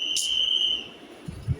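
Garbage collectors blow a whistle to announce their arrival: one shrill, steady high whistle lasting about half a second, then low thuds and faint background noise.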